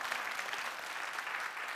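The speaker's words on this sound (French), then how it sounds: "Je vous demande de l'applaudir plus fort." An audience at a live television entertainment show applauds steadily, a dense, even wash of clapping from many hands heard from a moderate distance with no voices on top.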